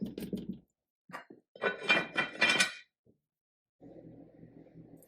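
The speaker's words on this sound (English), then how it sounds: "And we're going to cover this and let it simmer." A lid goes onto a pot of pumpkin black bean chili seasoned with salt, giving a few close clattering knocks of metal and cookware, followed by a low steady simmering hiss.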